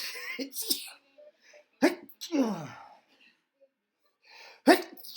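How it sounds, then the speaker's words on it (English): A person sneezes sharply a few times between bits of muffled speech and quiet pauses, close to the microphone. "I'm sneezing"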